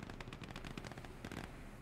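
PPSh submachine gun fire in the World War II strategy game Gates of Hell on the Eastern Front, a rapid rattling burst of automatic shots with distant battle noise, faint and continuous.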